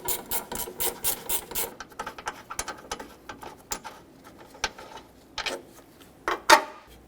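Ratchet wrench removing two 13mm radiator bolts on a 2007-2014 Chevrolet Silverado 2500 HD: quick bursts of ratcheting clicks, then slower scattered clicks and a few sharper metallic knocks, close and fairly quiet, with no talking.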